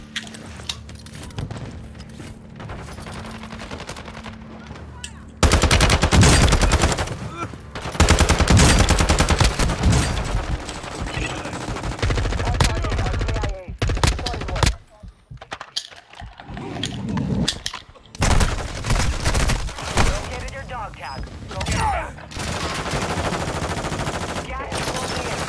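Heavy automatic gunfire and explosions from the game Call of Duty: Modern Warfare II, a loud sustained barrage in dense bursts with brief lulls, following a quieter opening.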